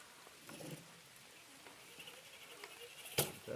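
Rain falls steadily outdoors during a remote-control truck run, a faint, even patter and hiss with scattered drop ticks and one sharper tap near the end. There is no talking.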